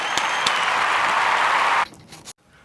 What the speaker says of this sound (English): So virtual round of applause to everybody.